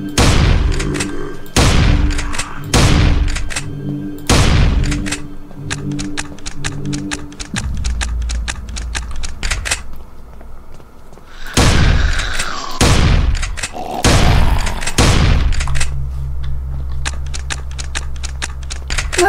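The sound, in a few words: shotgun firing in the video game Invention II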